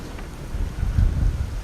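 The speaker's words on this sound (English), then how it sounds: "At one point, the winds get so strong that you actually have to start using your anchor." Strong storm wind roars in the Call of Duty Black Ops 3 game, a low rumbling gust that swells to a peak midway and then eases, with no voices.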